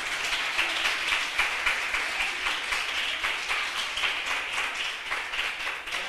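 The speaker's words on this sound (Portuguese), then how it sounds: "Você pode aplaudir o Senhor por isso?" A church congregation applauds during a Christmas service, steady mid-level clapping from many hands with a rhythmic pulse running for about six seconds.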